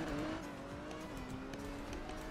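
Several cars tear along in an illegal street race in Roblox Emergency Response Liberty County, engines droning steadily with faint tire squeal, loud and continuous throughout.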